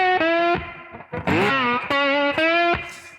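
Electric slide guitar in open E tuning playing a short blues lick, struck hard with the fingers: bright distorted notes with sliding pitch bends between sharp attacks, close and loud.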